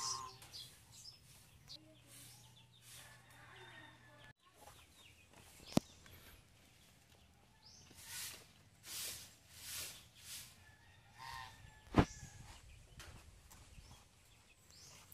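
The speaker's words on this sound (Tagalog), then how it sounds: "pasensya na kayo sa maingay guys, yung mga gansa" Loud, repeated honking calls from a flock of geese kept at a house, several in quick succession, with a couple of sharp knocks and general yard noise.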